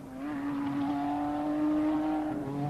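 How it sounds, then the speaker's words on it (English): A Cosworth turbocharged Formula One engine at full race boost spins its wheels on a wet circuit, a loud sustained high-revving drone holding a steady pitch throughout. "Cosworth have produced an engine with full race boost, and the vicious power induces wheel spin on the wet surface."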